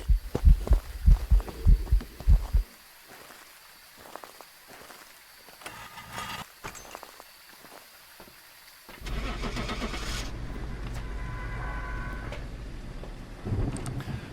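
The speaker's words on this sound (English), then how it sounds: "if you notice at the beginning of the hunt, we could hear a heartbeat, right?" Heartbeat sound effect during a ghost hunt in a horror video game: low rhythmic thumps at the start, then quieter stretches with a steady engine-like hum taking over partway through.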